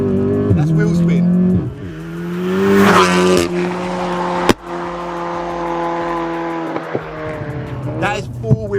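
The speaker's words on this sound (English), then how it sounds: "That is 4 wheels spinning." A loud engine revs hard as the car's tyres squeal through four-wheel wheel spin, with the pitch climbing and falling. Someone talks over the noise, and a sharp bang cuts in midway.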